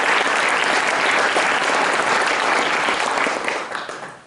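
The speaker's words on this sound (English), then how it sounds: "Please just give yourself a round of applause." A roomful of family members and descendants at a Tenth Mountain Division Snow Train anniversary celebration applauds in a dense, sustained burst that tapers off at the end.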